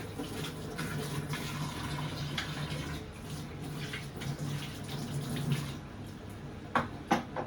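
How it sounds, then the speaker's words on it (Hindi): Tap water runs steadily over finely chopped onions in a kitchen, a constant close splashing wash, with a few sharp clinks near the end. "प्याज भी इतना बारीक काटना है। इसको धो देते हैं।"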